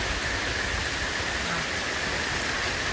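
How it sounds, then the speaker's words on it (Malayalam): Heavy rain driven by wind falls around a home, a dense, steady, loud wash of noise that holds unbroken from start to finish with no voices. "ഇന്ന് നല്ല മഴ തന്നെയാണ് കേട്ടോ"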